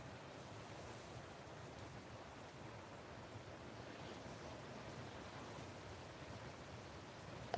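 Steady outdoor wind rushing and buffeting against the microphone, a continuous broadband roar at an even, moderate level throughout, with no one speaking.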